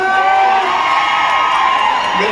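A large concert crowd at a mini-concert cheers and screams loudly and continuously, a dense wall of excited voices.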